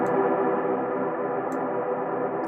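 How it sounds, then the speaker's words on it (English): A frozen reverb snapshot from the Crystalline reverb plugin by Baby Audio on iOS sustains as a steady, even, shimmering wash of tone with no new notes played, with a couple of faint high ticks. "freeze will freeze a snapshot of the reverb that is happening at the time you hit freeze"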